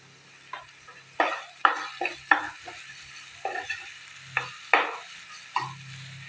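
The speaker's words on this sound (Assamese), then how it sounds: "ইয়াতে মই বিলাহী এটা মিহিকৈ কাটি থৈ দিছিলোঁ। এইটো মই ভালদৰে ভাজি ল'ম।" Finely chopped tomato frying with spices and salt in a pan for a raw banana curry, a spatula scraping and stirring in about ten distinct strokes over a soft, steady sizzle, close and moderately loud, with no talking.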